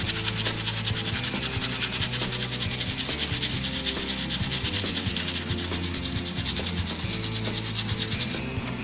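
Brush scrubbing the rubber sole of a Vans Old Skool shoe, a steady rasping rub in quick repeated strokes, close and loud throughout.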